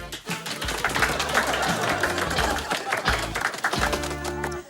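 A Turkish sitcom audience breaks into applause, a dense steady patter of clapping that runs through the whole stretch, with voices and faint low tones underneath.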